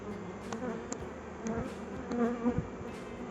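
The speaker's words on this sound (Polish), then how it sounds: "Tej pszczoły jest dużo" A dense, continuous buzz of many bees close by, with individual insects droning past amid the swarm.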